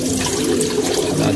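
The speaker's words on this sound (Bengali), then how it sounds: "পানি দিয়ে দিছি, পানি দিয়ে দিলাম" Water being poured out for pigeons, a steady close splash and trickle of liquid running without a break, no voices over it.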